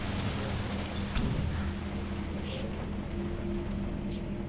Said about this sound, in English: Nice rainy night.